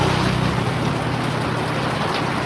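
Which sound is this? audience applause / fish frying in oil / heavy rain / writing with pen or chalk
heavy rain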